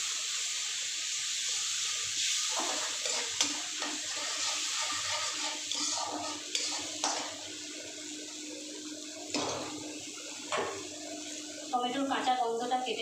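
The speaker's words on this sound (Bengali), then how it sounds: "খুব সামান্য একটু জল দিয়ে দিলাম।" A little water poured into a hot pan of vegetarian pointed gourd and tomato curry, a steady loud sizzling hiss throughout with a few clinks and stirring sounds near the end.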